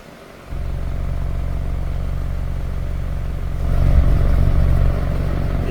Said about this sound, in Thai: เครื่องสตาร์ทอยู่นะครับ